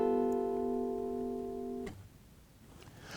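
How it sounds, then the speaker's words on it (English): A G dominant 9 chord strummed once on an acoustic guitar rings out steadily with clear sustained tones for almost two seconds before being muted, leaving faint room noise and small handling sounds. "We get a G dominant 9, which sounds like this."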